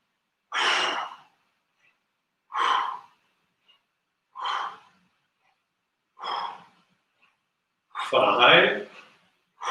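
Five forceful exhaled breaths during breath squats, evenly spaced about every two seconds and close, the last one longer and rougher, with no talking.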